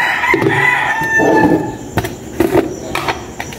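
Roosters crow in the early morning, several long harmonic calls overlapping at close to middle distance, with clucking and other farmyard noise in between and no talk.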